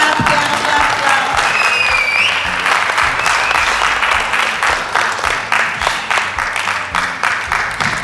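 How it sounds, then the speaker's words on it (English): Audience applause at a youth award ceremony, a steady dense clapping from a room full of people that carries on loudly for the full stretch without pause. "Clap."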